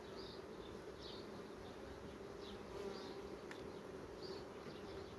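Honey bees from a colony that has split and is ready to swarm fill the air with a dense, steady buzzing hum, close and continuous, with individual bees flying past now and then and no talk.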